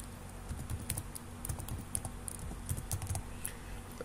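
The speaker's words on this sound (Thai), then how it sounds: "พิมพ์รหัสเข้าไป" A password being typed on a computer keyboard: a steady run of light, quick key clicks that continue evenly, close and alone, with no voices.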